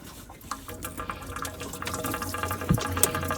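Coolant from a Porsche Cayenne, Audi Q7 or VW Touareg 3.2 VR6 drains into a bucket underneath, a continuous close trickle and splash of liquid that swells slightly partway through.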